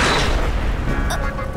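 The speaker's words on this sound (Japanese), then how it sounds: "爆発落ちなんて最低。" Cartoon explosion in a short Fate/Grand Order anime comedy, a deep booming blast with a rumbling low tail that swells at once and fades slowly, with a brief bright ping near the end.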